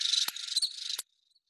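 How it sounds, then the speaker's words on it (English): Crickets chirp in a dense, high, buzzing trill with a few sharp clicks, loud and close, stopping abruptly after about a second and leaving near silence with faint distant chirps. "that's our cricket. They chirp night and day."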